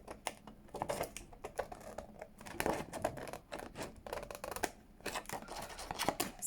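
Scissors snipping around paper packaging up close, a quiet run of quick irregular clicks and crisp cuts with soft paper rustling.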